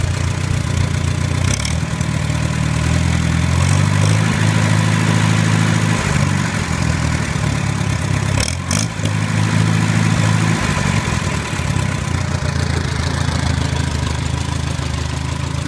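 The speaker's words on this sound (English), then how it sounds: "It's a good running little tractor." A Farmall A tractor engine idles close by, a steady loud chugging with its rhythm shifting slightly a few times and brief clanks along the way.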